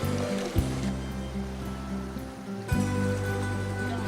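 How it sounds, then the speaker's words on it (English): Sea water churned by the propeller wash of the Marella Explorer cruise ship, a steady rushing, frothing roar close by with low engine drone underneath and two brief surges. "the wash from the propeller disturbed the hundreds of fish sheltering there"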